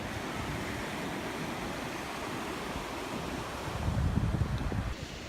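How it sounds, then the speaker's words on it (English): Ocean waves wash steadily onto a fall beach, a constant broad roar with wind buffeting the microphone and a slightly louder surge near the end, with no talk. "So we're at the beach."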